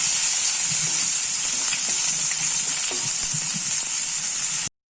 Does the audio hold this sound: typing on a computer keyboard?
no